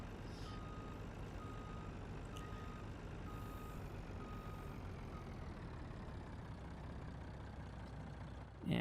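A semi-truck in Farming Simulator 19 backs up with about five spaced reversing beeps over a steady engine drone, fairly faint, followed by a sudden louder noise right at the end.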